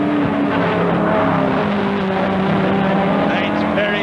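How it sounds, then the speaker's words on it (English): Saloon racing cars from a 1971 championship, including a Chevrolet Camaro, roar around the tight Crystal Palace circuit, a loud continuous engine drone with shifting pitch that fills the whole stretch, probably with commentary blended into the noise. "Mike Crabtree is right on the boot lid of Martin Thomas's Chevrolet Camaro."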